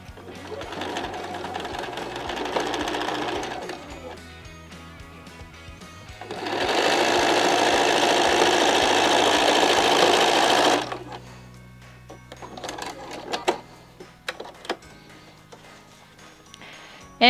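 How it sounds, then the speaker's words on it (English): A sewing machine stitches the final seam of a quilt block in two continuous whirring runs, one short and one longer, close and loud, separated and followed by quieter handling noises and clicks. "And just sew the last seam down."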